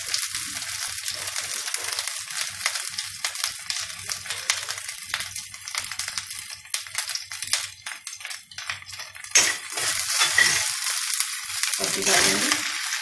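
Pumpkin pieces and green chillies fry in hot oil while being stirred, a steady sizzle with scraping and crunching stir strokes close by, rising louder near the end.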